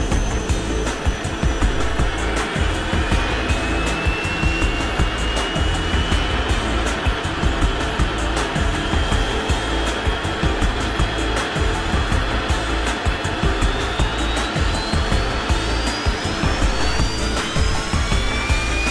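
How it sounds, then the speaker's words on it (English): An aircraft's APU and engine spin up with a steady, loud roar and rising whine tones that hold for nearly twenty seconds, with no voices. "The APU unit roars into action, and we have engine start."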